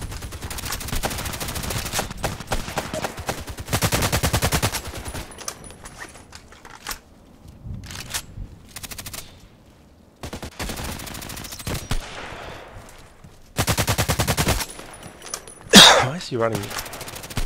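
Automatic and single gunshots from the Contract Wars online shooter come in repeated bursts of rapid fire, loud and close, with pauses between volleys and a sharp louder blast near the end, while players talk over them.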